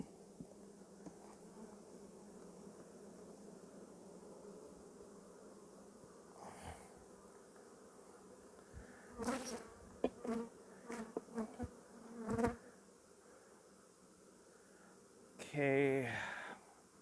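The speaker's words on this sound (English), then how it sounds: "this time the bees are a lot calmer" Bees buzz steadily and softly around an open beehive during an inspection, close and continuous, with some louder bursts as a few fly near, and a person speaks quietly at times.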